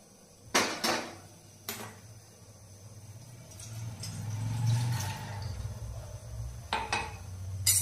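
A cooking pot being handled while steaming spinach in water, with a few sharp metallic clanks near the start and end and a low bubbling, shuffling rumble building in the middle.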